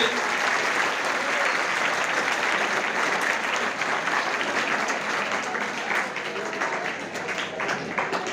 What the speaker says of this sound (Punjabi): ਜੀ ਆਇਆਂ ਵੀ ਕਹਿੰਦੇ ਤਾੜੀ ਮਾਰ ਦਿਓ ਇਹਨਾਂ ਦੇ ਵਾਸਤੇ।